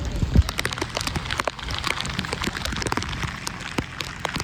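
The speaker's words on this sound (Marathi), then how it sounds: "आला पाऊस." Rain patters onto a flooded rice field during paddy planting in a village, a soft, steady hiss with scattered crisp drops and no talking.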